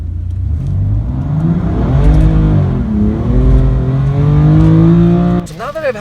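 A 2019 BMW M2 Competition accelerates hard, its engine note climbing steeply through the gears with loud, close revs before a sharp drop at the end.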